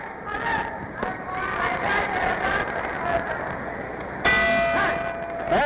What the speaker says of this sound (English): There's the bell ending round two